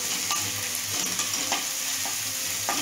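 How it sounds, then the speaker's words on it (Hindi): Onions fry in hot oil in a pan with a dense, constant sizzle, close and loud, with light scraping stirs now and then. "प्याज को हमें अच्छे से फ्राई कर लेना है थोड़ा गोल्डन ब्राउन होने तक"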